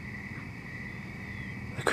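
Crickets chirping outdoors on a cold night in the woods, a steady high trill running throughout at a moderate distance, with a brief rustle near the end.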